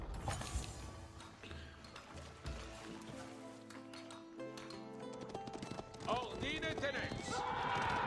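In the video game Age of Empires 4, cavalry horses clatter in rapid hoofbeats with a neigh amid battle clamor, sounding under a man's steady speech.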